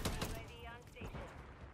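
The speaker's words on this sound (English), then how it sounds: "Y'all and your light machine guns" A short burst of light machine gun fire in a video game rattles fairly loudly at first and then trails off. Voices are heard mixed in with the shots.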